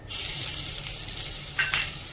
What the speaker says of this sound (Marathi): गॅसवर कढई तापत ठेवलेली त्यामध्ये एक चमचा तूप टाकून घेऊया आणि थोडस बटर